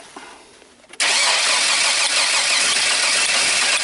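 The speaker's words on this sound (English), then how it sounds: "We'll crank the engine and we'll see if there's a spark." GM 4.3 V6 in a Chevy Astro with a crank no-start fault, abruptly cranking after a second of quiet and continuing as a loud, harsh, steady whirring churn that does not catch.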